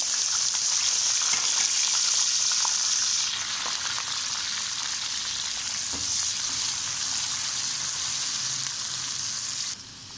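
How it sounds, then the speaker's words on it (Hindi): Onions fry in hot oil in a pan just used for frying okra, giving a continuous bright sizzling hiss that stays steady and close throughout, with faint stirring and no speech. "अब इसमें हम प्याज फ्राई करेंगे।"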